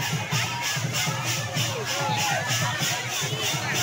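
Crowd gathered at a village Rath Yatra chariot festival, a steady dense hubbub of many voices with a faint rhythmic pulse running through it, filling the whole stretch without pause.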